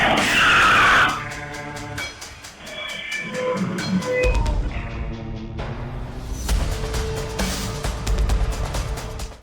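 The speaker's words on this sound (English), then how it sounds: "a car comes speeding in, suddenly goes out of control, and crashes into a tent set up on the side of the road" A speeding car on a roadside skids out of control, tires squealing loudly before a crash into a tent set up beside the road, followed by scraping, rumbling impact noise and a string of sharp clatters.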